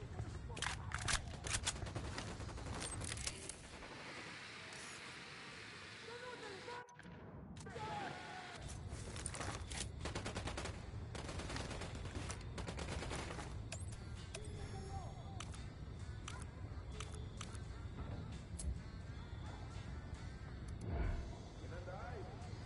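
Gunfire in a video game shooter: dense, crackling volleys of shots run almost continuously at moderate volume, briefly cutting out once, with voices talking over the din.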